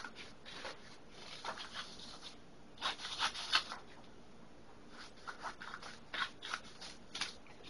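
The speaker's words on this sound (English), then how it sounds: "we'll cut another one exactly the same" Scissors cut paper for a children's totem pole craft, giving faint, quiet snips and crisp paper rustles in short irregular bursts.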